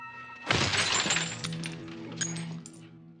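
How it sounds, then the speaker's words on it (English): A television is smashed over a man's head, with a sudden loud crash of shattering glass followed by a couple of seconds of tinkling, scattering shards that fade out. "Henry then finishes him off by smashing the TV over his head."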